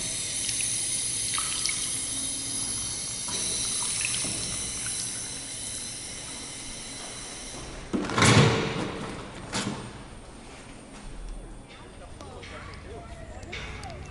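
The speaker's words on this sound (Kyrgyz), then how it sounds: "Колуңду мияка алып келсең суу агат да." Water runs steadily from an automatic sensor tap in a zoo restroom in Columbus, Ohio. The close hiss carries on under talk, and there is a louder splash burst about midway.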